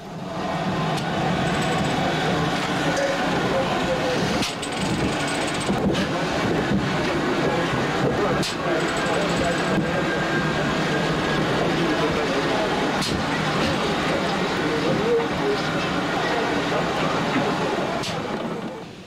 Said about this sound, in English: The engine rolls forward on its remaining steam.